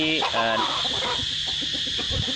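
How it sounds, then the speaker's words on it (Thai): Free-range chickens fed on coconut pulp and vegetable scraps in a forest plot, clucking steadily and close by, with several birds overlapping in a busy, continuous chatter. "ไก่อยู่เยอะนะครับ ในป่าผักหวานผมนะครับ"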